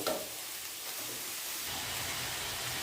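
Horse gram sambar bubbles and simmers in a pan, giving a steady, even hiss with soft frying crackle that holds at one level throughout, close by, with no talking.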